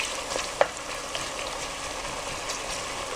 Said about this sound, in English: In the meantime, while that is frying, I'm going to go ahead and add